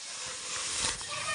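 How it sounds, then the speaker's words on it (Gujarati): Mustard seeds, chili and turmeric sizzle in hot oil as a vegetable tempering is made in a village kitchen, a steady close hiss running unbroken throughout. "મસ્ત મસ્ત મરચું અને હળદર ને હંધું નાખીને કામે રાય નાખીને વઘાર કરે છે"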